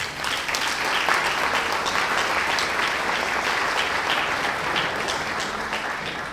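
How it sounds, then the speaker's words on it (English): An audience at a Little Miami Hall of Fame induction applauds a coach of 46 years, a loud, sustained roar of many hands clapping that holds steady throughout. "Give him a round of applause."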